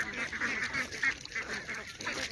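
Geese at a rural farm honk in a noisy, continuous chorus, mixed with duck-like calls, moderately near and without talk.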